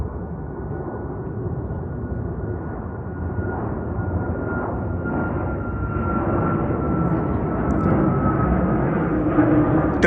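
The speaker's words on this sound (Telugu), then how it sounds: "ఎయిర్ క్రాఫ్ట్ టేక్ ఆఫ్ అవుతుంది" An aircraft takes off from a runway in the high mountains of Ladakh, a steady distant engine roar that swells slightly over time, heard from afar with a faint voice now and then.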